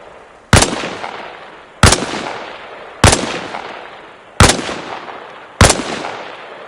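Five loud, evenly spaced gunshots from a rifle in the military shooter game Arma Reforger, fired at targets from a kneeling position on a range, each crack sharp and close with a short decaying echo, no talking.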